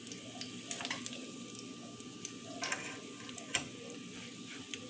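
Bacon fries in a pan for a breakfast sandwich, giving a steady low sizzle with scattered crackles and pops, close up and fairly quiet, with no talking.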